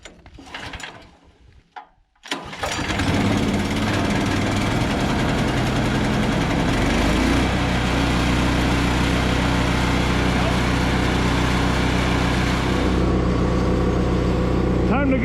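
A Brush Master CH4M21 gas chipper shredder with a 15 HP 420cc engine starts after some handling noise, then runs loud and steady up close with a constant engine drone and rattling vibration.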